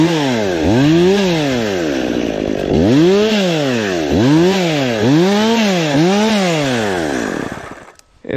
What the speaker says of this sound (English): if you hold your chainsaw flat like that, it'll tend to get caught in the chain.